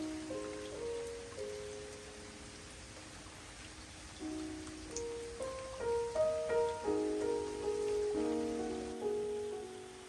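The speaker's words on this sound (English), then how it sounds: "The fish are playing with the ripples of the raindrops as they hit the top of the water." Rain patters steadily onto the still surface of an outdoor pool where fish swim, a soft continuous hiss of drops under faint tonal hum, with no talk.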